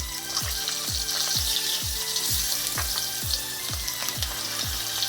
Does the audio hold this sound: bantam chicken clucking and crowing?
no